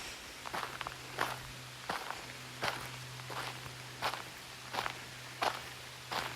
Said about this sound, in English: You can hear my footsteps crunching on the gravel.